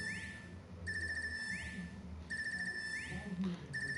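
An Arcus communicator in Trails of Cold Steel III rings in repeated electronic bursts, a bright warbling tone pausing between cycles, fairly faint under low game ambience.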